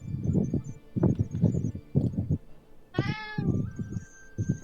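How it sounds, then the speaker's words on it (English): Two cats meow together in harmony, a short pair of rising, overlapping calls heard clearly amid low background murmur and rustling, with softer voices before and after. "Sound like two cats in harmony."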